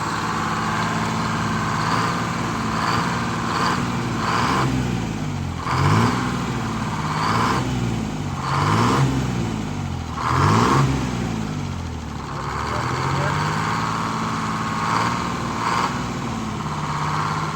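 A Detroit Diesel 6-71 engine fitted with new injectors runs steadily and will not settle back to idle, its drone swelling and dipping in a series of uneven revs, close and continuous.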